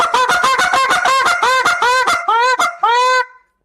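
A goose call sounded in a two-part moan-and-cluck sequence, about a dozen loud, rhythmic honks in quick succession, ending with a few longer drawn notes before silence.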